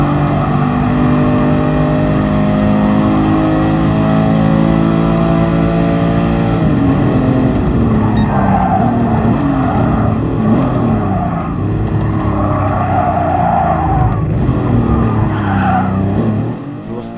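A loud race car engine in Gran Turismo Sport revs and drones steadily, its pitch climbing and falling, with tires squealing as the car slides through corners.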